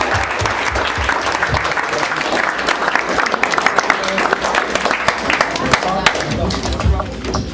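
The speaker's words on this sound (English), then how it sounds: "Round of applause." Loud, sustained applause from a large audience at an NFL dinner, dense clapping filling the whole stretch with a few voices mixed in.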